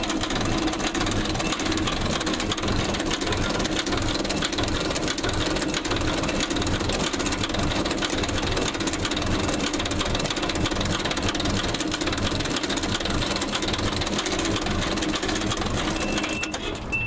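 A diesel engine runs steadily while its injector is adjusted, a continuous, loud, rapid mechanical clatter heard close up with no pauses.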